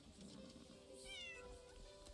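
A cat in the video game Crimson Desert gives one short, clear meow partway through, over a quiet, steady in-game background hum.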